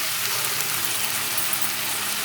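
Onions sauté with ginger and salt in a pan, giving a steady, close hiss of sizzling throughout with no speech.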